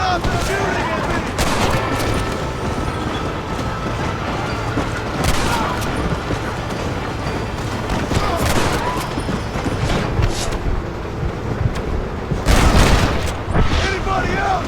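Gunfire rattles in the Red Dead Redemption video game, repeated loud shots and bursts scattered throughout amid a constant rumble, with voices shouting over them.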